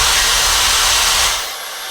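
A Dyson Supersonic Nural hair dryer blows with a loud, steady high-pitched whoosh, then drops to a quieter idle hum as pause detect mode kicks in.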